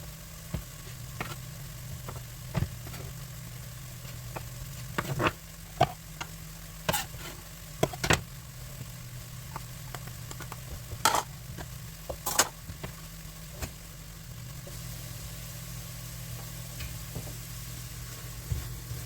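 Fish sizzling and frying in a pan for a gluten-free fish chowder, a steady soft crackle with scattered sharp ticks and light utensil clicks, fairly quiet and close, with no talk.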